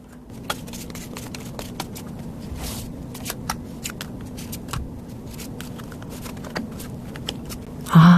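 Tarot cards being drawn and handled give off soft, scattered papery clicks and rustles at close range, with a sharper knock right at the end.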